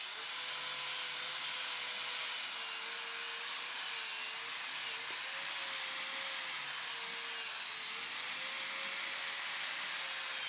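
A wire wheel on a power tool grinds rust off the axle flanges of a C10 rear end, a continuous high whirring scrape with a slightly wavering pitch, close and alone.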